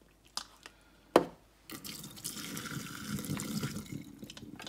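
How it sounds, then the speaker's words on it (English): Cooked pasta is drained in a kitchen, with water pouring and splashing steadily for a few seconds after a couple of sharp clicks and knocks, and no talking. "your next step after pouring the broccoli in the bowl is you want to drain your pasta"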